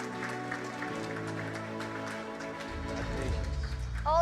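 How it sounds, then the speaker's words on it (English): Applause from an event audience as special mention companies Aether Fuel, Sicona Battery Technologies and Linkerbot take the stage at a FedEx small business grant contest, a steady wash of clapping under droning music that swells near the end. "Please give them a big round of applause."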